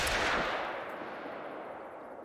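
A .243 handgun fired at a range in theHunter: Call of the Wild, one loud sharp report at the start followed by a long echoing tail that slowly fades, with no talking.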